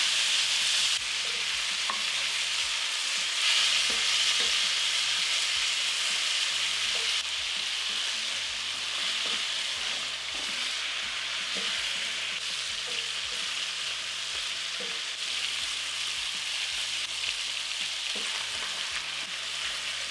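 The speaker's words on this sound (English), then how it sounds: "This beef has been going for about 5 minutes. It's all starting to brown. Give it a turn." Beef chunks browning in hot oil for a barley soup make a constant loud sizzle and spatter, with scattered scrapes and knocks as the pieces are turned in the pot, close and with no talk.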